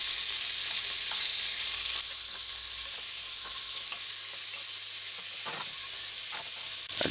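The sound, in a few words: beef chunks frying in a pan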